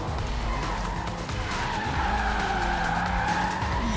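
In the Forza Horizon 3 racing game, a car drifts with loud sustained tire squeal over a steady roaring engine that shifts in pitch, constant and close throughout.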